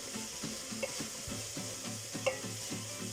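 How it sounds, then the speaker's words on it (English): Onions frying in a pan as chutney is made, giving a steady, close sizzle with soft scrapes and taps of a stirring utensil, no voices. "the onions have been cooking for a few minutes."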